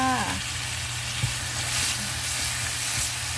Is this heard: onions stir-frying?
yes